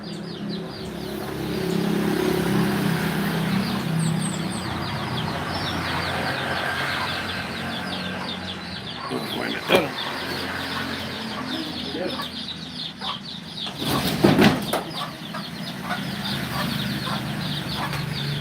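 Chickens cluck and chirp steadily at moderate distance just outside a house in the Philippines, with a few sharp clatters like a door closing and a voice speaking over the birds.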